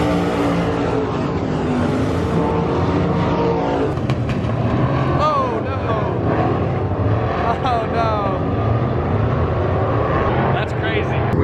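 Dirt race cars roar through hot laps at a World of Outlaws dirt track race, engines droning loudly and continuously with passing revs, while a voice talks over the din.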